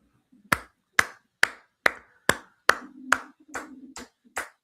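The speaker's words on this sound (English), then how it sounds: "Clap it up for Oda." Ten sharp hand claps in a steady rhythm, close and fairly loud, with a faint low hum running beneath the later claps and no talking.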